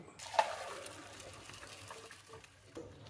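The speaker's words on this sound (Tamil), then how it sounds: "இப்போ நம்ம தண்ணி வடிச்சாச்சு தண்ணி நல்லா வடிஞ்ச உடனே" Water draining off boiled rice while making dum biryani, a soft, steady liquid pour with a sharper splash near the start, fairly quiet and without talk.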